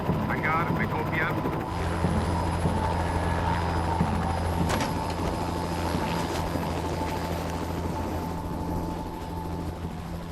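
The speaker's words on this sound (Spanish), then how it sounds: "Un helicóptero recogió a Blake y se dirigió rápido al lugar." A rescue helicopter flies over wild terrain with a steady, loud, droning rotor and engine roar throughout, and voices are heard faintly under the noise.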